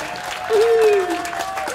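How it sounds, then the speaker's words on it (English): Applause from an audience after a round of singing at a live music performance, a steady wash of clapping with a sustained tone and a brief voice rising in the middle. "Give yourselves a round of applause for all that fine singing."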